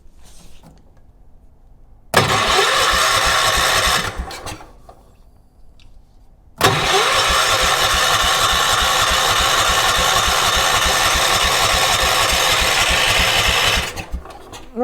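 A vintage 1980s UTV engine is cranked twice without starting, each attempt a loud, close, rhythmic whirring churn, the first about two seconds long and the second running for roughly seven seconds before stopping.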